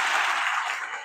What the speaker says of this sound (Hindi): ताली बजा के याद करो इस बात को